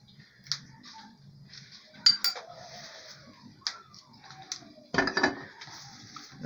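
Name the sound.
mixing shrimp ceviche with seasoning in a dish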